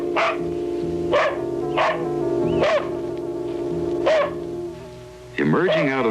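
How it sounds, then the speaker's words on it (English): A dog barks repeatedly in a small town in northern Washington, sharp barks spaced about a second apart over a steady droning background, fairly close, with a louder burst of noise at the end. "she was distracted by the incessant barking of her dog"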